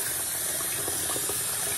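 Water runs steadily from a tap as hair is wetted, a soft continuous splashing rush with no pauses.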